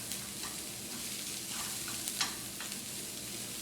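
Minced garlic and onions sizzle in a frying pan over slightly lowered heat. A steady, soft crackle runs throughout, broken by a few brief scrapes of stirring, with no talking.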